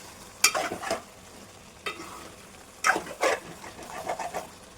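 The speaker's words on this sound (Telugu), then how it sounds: "మిక్స్ చేసుకుంటూ ఫ్రై చేసుకుంటేనే బాగుంటుంది." Spiced rice for fried chicken biryani frying in a pan, with several bursts of stirring and scraping over a soft continuous sizzle, close up, no voices.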